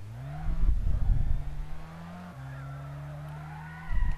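A race car in a racing video game loses grip and spins out, engine tone holding steady and dipping while tires skid, moderately loud, with no speech.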